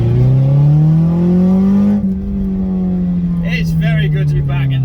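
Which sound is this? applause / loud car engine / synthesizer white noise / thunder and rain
loud car engine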